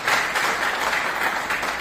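An audience at a direct-selling MLM seminar bursts into thick, loud applause, a dense wash of many hands clapping at once that fills the brief moment without any speech.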